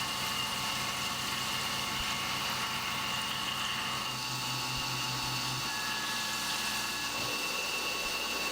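A milling machine takes a full-depth finish pass on a fixture plate, a steady mechanical hum with faint whining tones and slight shifts partway through, constant and moderately quiet with no voices.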